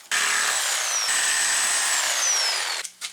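A reciprocating saw cuts through overlong seat bolts on an old kayak. The loud, steady whine of the motor comes in two sustained stretches, its pitch sagging under load, then stops abruptly with a few small clunks.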